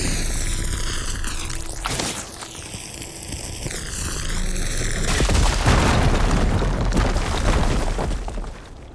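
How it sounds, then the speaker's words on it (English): A fire gleam blows up in Horizon Forbidden West with a loud, sustained boom and crackling burst, preceded by game music and swooping tones, the blast rumbling on for several seconds. "Should be able to blow up that fire gleam."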